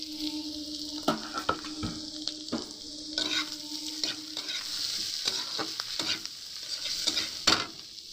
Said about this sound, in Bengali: এবারে দিয়ে দেবো আমি কেটে রাখা যে সবজিগুলো যে ভেজে রেখেছিলাম, এই যে সে সবজিগুলো সব আমরা ঢেলে দেবো।